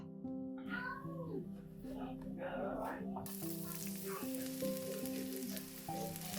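Chopped onions sizzle and fry in hot oil in a pan, a steady soft crackle with occasional stirring, while a cat meows nearby and a voice talks faintly at times.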